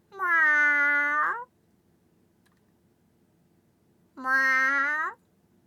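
A human voice mimicking a cat gives two drawn-out meows several seconds apart, each steady and nasal with a rising inflection, loud and close with silence between them.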